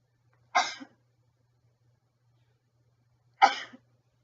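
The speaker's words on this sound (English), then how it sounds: "Sorry, I have to sneeze." Two sharp sneezes, about three seconds apart, each a short burst close by, with near silence around them.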